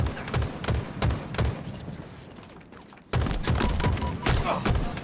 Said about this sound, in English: I am convinced my shots are going over their head.